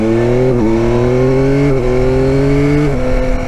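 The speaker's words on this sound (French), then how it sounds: "Ah, cette allonge du 3 cylindres en plus." A 2021 Yamaha Tracer 9 GT three-cylinder motorcycle accelerates hard under the rider, its engine note climbing steadily and dipping briefly at two quick gear changes, loud and close with steady wind rush.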